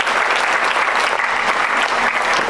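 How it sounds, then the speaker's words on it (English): Loud, sustained clapping from a church congregation for Prophet Roydel Rowe forms a thick, even roar of many hands that holds steady for a few seconds. "Come on, clap your hands for your prophet."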